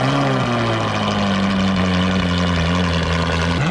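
A Ferrari 458 Spider on its stock exhaust settles into a steady, loud idle right after starting, its deep drone holding evenly throughout with a slight rise at the very end.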